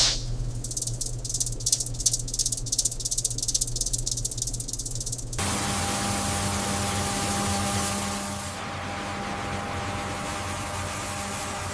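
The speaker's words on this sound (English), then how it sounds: "Sieving removes oversized particles, ensuring consistent flour texture." An industrial sieving machine in a large cassava flour factory sifts flour, first with a fast, busy rattling, then a dense, steady mechanical whoosh, loud and close with no talking.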